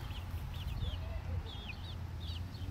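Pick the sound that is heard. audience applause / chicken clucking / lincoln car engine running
chicken clucking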